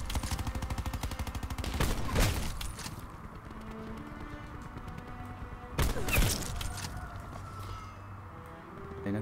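Gunfire in the video game Call of Duty Black Ops 4, a continuous dense rattle of shots with two sharper, louder cracks standing out in the mix.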